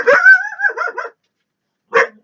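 A dog barking close by: a long, wavering run of yips and whines, then a pause and one short sharp bark, loud and clear with no talk over it.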